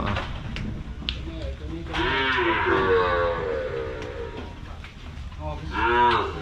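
Cattle low repeatedly at a Thai livestock market where cows are bought and loaded, with a long drawn-out moo mid-clip and another near the end, amid crowd noise and people talking.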